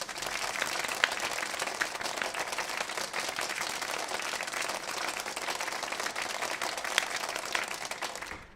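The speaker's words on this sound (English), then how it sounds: "Ladies and gentlemen, please clap." A crowd claps and applauds steadily for several seconds, dense overlapping hand claps forming an even wash of sound with a few sharper individual claps standing out.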